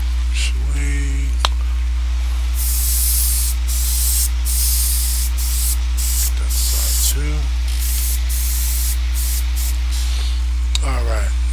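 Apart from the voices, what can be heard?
spray can spraying primer onto a model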